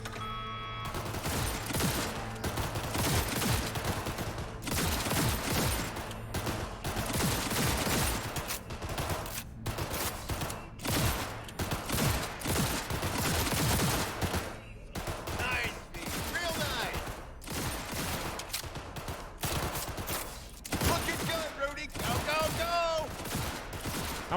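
Cyberpunk 2077 shooting-range gunfire: repeated rapid bursts of game shots across a long stretch with brief pauses, loud and dense, with a voice talking over parts of it.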